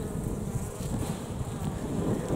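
Honeybees buzzing around a beehive feeder make a dense, continuous drone of many wings, steady and fairly close throughout, with no talking.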